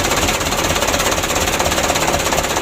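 A flood-submerged diesel engine, freshly repaired, runs loud and close with a rapid, hard knocking clatter at a rough, steady idle.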